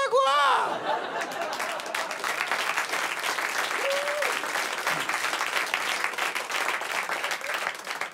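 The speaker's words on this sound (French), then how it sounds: "Vous applaudissez" A live comedy stage show audience bursts into loud, sustained applause mixed with cheers and whoops, filling the hall; a voice briefly rises over it at the very start.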